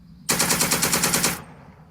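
A heavy machine gun in a video game fires one rapid burst of about a dozen rounds lasting roughly a second, loud and close, then cuts off into quiet.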